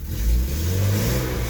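A BMW 750iL E32 engine revs inside a garage, a short loud rise and fall of a mid-pitched engine note over a steady running hum, with no voices.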